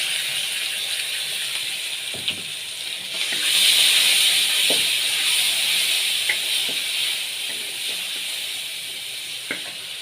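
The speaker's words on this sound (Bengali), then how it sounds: "ভাজা ভাজা হয়ে গেছে। এবার এর ভিতরে টমেটো বাটা দেবো।" Tomato paste sizzles in a pan of fried spices for Bengali egg curry, a steady hiss that swells briefly louder as it hits the oil, with occasional light clicks of a stirring spoon.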